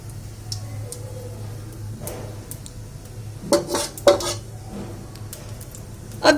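Cumin seeds are stirred in hot oil in a kadhai, a few sharp metallic scrapes and clinks of a spoon against the pan over a low background hum, with quiet gaps between strokes.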